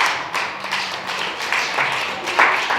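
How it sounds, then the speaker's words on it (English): A comedy club audience claps in a short scattered burst of applause, fairly close and uneven, with individual claps rising and falling. "clap for that if you want to"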